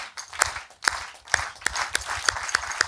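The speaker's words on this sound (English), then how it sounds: "Can we start a slow clap?" An audience slowly builds a clap at a talk, with sharp, widely spaced single claps that grow more frequent, starting sparse and irregular and settling into a steady rhythm with a few scattered extra claps.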